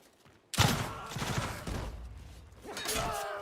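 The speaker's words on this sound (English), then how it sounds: "barrage of bullets" A barrage of gunfire breaks out in the video game Mount and Blade II: Bannerlord, opening with a loud sudden burst of dense, overlapping shots that keeps rattling on, then surges again toward the end.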